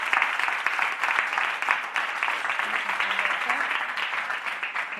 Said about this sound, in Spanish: Asun Domínguez, un aplauso para ella.